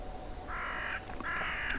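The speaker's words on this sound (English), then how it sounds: "I can hear birds cawing nearby." Crows caw nearby outdoors, giving two drawn-out, raspy calls in quick succession over a quiet background.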